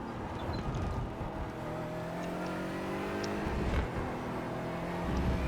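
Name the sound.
GT4 race car accelerating in iRacing video game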